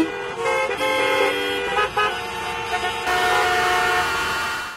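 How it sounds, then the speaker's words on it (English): Car horns blare in heavy traffic, several long overlapping honks held almost continuously and loud, with a different, brighter horn joining in for the last couple of seconds. "Annoyed by the extreme honking"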